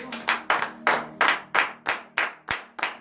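A church congregation claps together during morning prayer, loud rhythmic unison claps in a steady beat, about two per second, with no talking.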